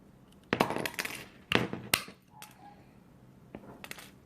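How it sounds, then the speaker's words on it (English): Sharp metallic snips of cutters cutting chandelier wire, several crisp clicks spaced irregularly, close and fairly loud against a quiet room. "Well, then they have to be cut."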